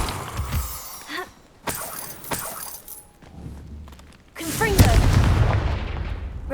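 Confringo spell blasts in the Hogwarts Legacy video game: several sharp explosive bursts with crackling debris, then a louder sustained rumbling blast near the end, with brief spoken words in between.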